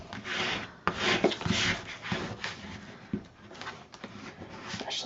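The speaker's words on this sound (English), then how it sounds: "burnish that down." Paper craft piece for a vintage shaker folio being burnished down by hand, giving a steady dry rubbing and rasping scrape in short repeated strokes, close and moderately loud.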